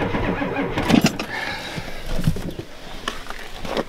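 A Ford F250 with a 7.3 IDI diesel engine cranks over on a cold start, close and uneven, with a few rough turning bursts and clanks but no steady idle.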